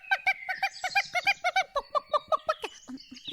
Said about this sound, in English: I think that was a chicken.